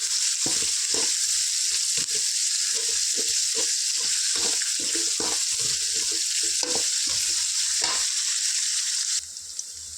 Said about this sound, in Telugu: ఆనియన్స్ని మంచిగా light light golden brown colour వచ్చే వరకు ఫ్రై చేసుకుందాం